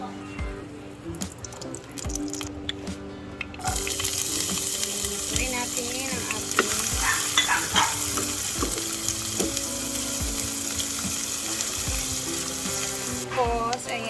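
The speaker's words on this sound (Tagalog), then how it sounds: "Nandito naman sa kabila is magluluto na tayo sa ating igigisa." Aromatics sautéing in a pan for Valenciana: a soft sizzle that swells into a louder, continuous frying crackle after a few seconds, with occasional clinks over a steady tonal hum.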